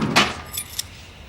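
A bunch of keys jangles briefly near a bar till, a quick metallic rattle with a few light clinks that fades within about a second.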